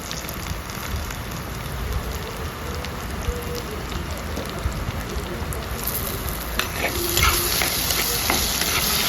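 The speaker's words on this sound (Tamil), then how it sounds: "வெங்காயம் நல்லா கோல்டன் ப்ரௌன் ஆகிற வரைக்கும் வதக்கிட்டு" Onions sauté to golden brown in a pan, giving a dense crackling sizzle with a soft scraping of stirring that grows slightly louder near the end.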